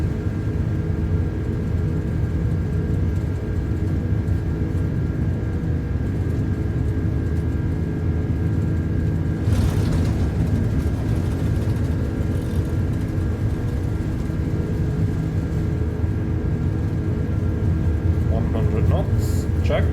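Lufthansa Airbus A330 engines spooling at takeoff thrust on the runway at Frankfurt, a steady loud droning roar with a constant low hum heard from inside the aircraft, with cockpit voices talking over it.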